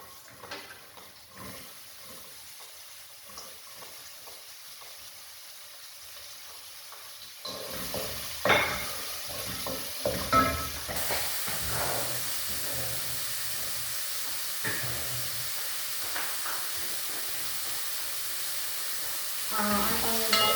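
Chopped onion dropped into heated cooking oil for an Arabic-style caldereta, a quiet pan hiss at first that jumps to a louder, steady sizzle with a few clatters and brief bursts of stronger frying.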